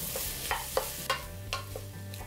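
Potato, beans, cauliflower and fresh peas cook in a pan for a white veg kurma, with a spoon stirring and scraping in several distinct strokes over a soft, steady sizzle.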